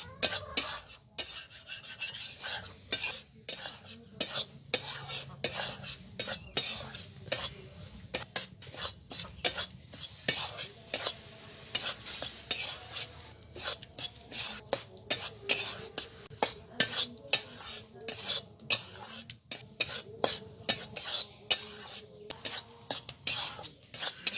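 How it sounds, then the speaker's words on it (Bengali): Dry flour and gram flour being stirred and roasted in a pan, giving a steady rhythmic scraping and rasping of a utensil against the pan bottom, with no talk. "যতক্ষণ একটা ভাজা সুগন্ধ বেরোবে ততক্ষণ ভাজতে হবে"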